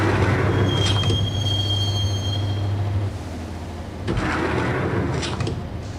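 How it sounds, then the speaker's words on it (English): A train rides along in the video game Max Payne, its wheels squealing in long, high metallic whines over a steady rumble of rail noise, with no talk. "the train doors had already shut behind me, and I was in for the ride"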